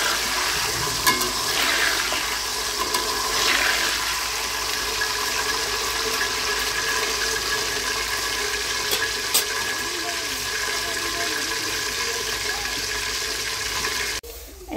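Eggs frying in a pan on a home stove, a dense, steady hiss and sizzle running throughout, fairly loud and close, with faint clicks and no voices, cutting off abruptly at the end.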